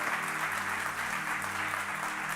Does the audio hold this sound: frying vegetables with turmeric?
no